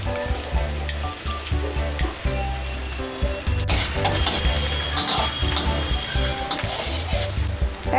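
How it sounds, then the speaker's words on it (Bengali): Bay leaves and garlic paste sizzle and fry in hot oil, a dense, continuous crackling hiss that stays close and loud throughout, with no pauses. "2-3টে তেজপাতা দিয়ে দিলাম। এক চামচ রসুন বেটে নিয়েছি, দিয়ে দিলাম।"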